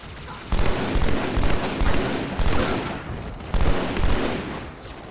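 Sniper rifle cracks and heavy gunfire in Halo 2: Anniversary, a dense battle with repeated loud bursts about every second over a constant roar of fire.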